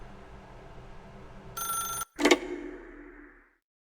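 A telephone rings in The Stanley Parable: Ultra Deluxe, a loud electronic ring cut off abruptly, then a brief clack of the receiver being lifted, with a faint room hum that fades to silence.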